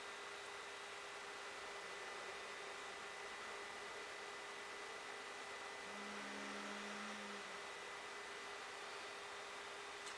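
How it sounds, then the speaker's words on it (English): A solar system inverter's cooling fan runs steadily as a quiet, constant broadband whir with a faint tonal hum, staying level throughout the clip without any talk over it. "if you hear a loud fan sound in the background, that's my inverter on my solar system running"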